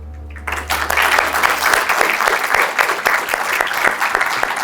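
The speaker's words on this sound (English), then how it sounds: "Please join me in giving a warm round of applause to the former Minister of Singapore." A lecture audience breaks into warm applause for a former government minister, with a low hum fading out as dense, sustained clapping starts and carries on at a strong, even level.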